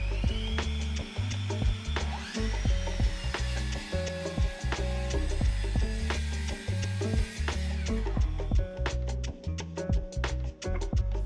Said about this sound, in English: I'm really impressed with the power of this saw.